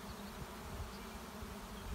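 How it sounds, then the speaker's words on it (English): A dense, steady buzzing of many bees fills the air continuously, close by and unbroken, with no voices. "there are just bees all around me"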